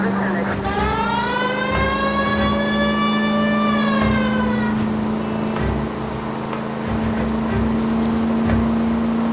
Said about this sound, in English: Use the goddamn siren.